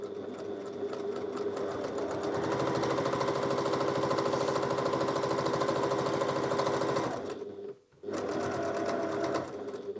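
A Janome HD9 Professional sewing machine stitching through eight layers of fabric runs with a steady, close mechanical whir, briefly stopping near the end before starting again.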